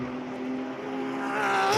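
A race car at Sebring drives onto the front straight, its engine a rising, steady whine that swells as it accelerates and closes in.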